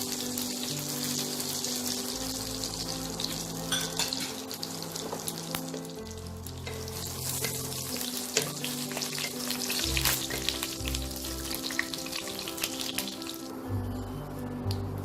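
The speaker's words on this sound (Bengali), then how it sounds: "তেলটা গরম হয়েছে, এবার আমি এতে 2টো তেজপাতা, 2টো শুকনো লঙ্কা আর গোটা জিরে ফোড়ন দেবো।" Two bay leaves, two dried red chillies and whole cumin crackle in hot oil as tempering for Kolkata-style chicken dum biryani: a loud, steady sizzle close by, broken by stirring clinks and spattering pops.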